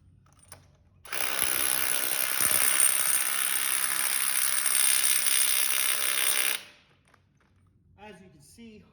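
A ratchet socket wrench with a 5/16 deep socket tightens the nut on a wedge anchor set in a floor, producing a steady, close, continuous ratcheting buzz for about five seconds before stopping, with faint voices around it.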